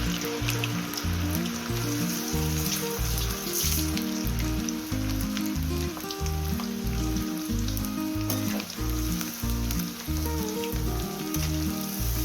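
Batter-coated cauliflower pieces for cauliflower chilli deep-fry in hot oil, added a few at a time. They give a constant, dense sizzle and bubbling with fine crackles.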